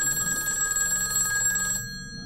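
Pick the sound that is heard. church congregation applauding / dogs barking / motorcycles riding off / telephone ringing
telephone ringing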